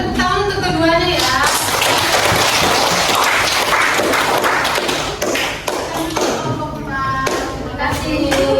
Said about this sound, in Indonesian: berikan tepuk tangan untuk keduanya ya